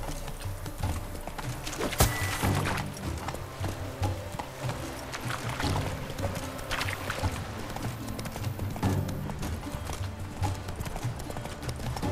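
Roach, a horse in The Witcher 3, gallops with a steady, rapid clip-clop of hooves, sounding close and continuous over a busy background of game sound.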